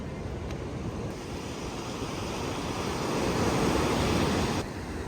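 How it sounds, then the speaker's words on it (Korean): Sea waves break and wash onto the shore at Sokcho with a continuous broad roar that swells toward the end, heard alone with some wind buffeting the microphone. "파도가 이 정도 치니까 좋다"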